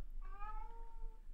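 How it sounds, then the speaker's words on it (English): Pet cat giving one drawn-out meow, clear and close, alone over a quiet room. "She was meowing like this during my meetings today too."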